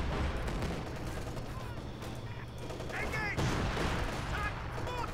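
Mortar and gunfire crash through a battle in Company of Heroes 2, repeated heavy thumps and crackling shots layered over continuous combat noise, with the rumble rising near the end.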